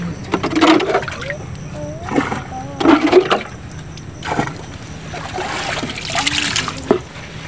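Water is poured in short, splashy bursts during a mud crab fishing trip, several separate pours and trickles with quiet gaps between, as people talk nearby.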